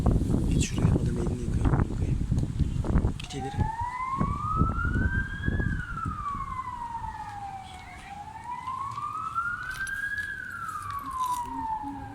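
A wailing emergency siren rises and falls in long sweeps, loud and fairly close, with voices talking over the start, on a street in Bursa, Turkey.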